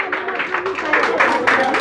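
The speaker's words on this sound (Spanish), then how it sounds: "¡Fuerte los aplausos!" Party crowd at a Christian quinceañera celebration applauding loudly and steadily, a dense wash of clapping with cheering voices mixed in, close and continuous throughout.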